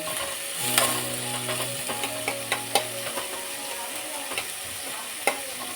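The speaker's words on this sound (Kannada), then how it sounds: "ದಪ್ಪದು 2 ಟೊಮೆಟೊ ಹಚ್ಚಿಟ್ಕೊಂಡಿದ್ದೀನಿ, ಹಾಕ್ತಾಯಿದ್ದೀನಿ." Tomatoes for butter egg curry frying in a hot pan, a steady sizzle with scattered crackles and clicks of a spoon stirring and scraping, alongside a low sustained hum, no speech.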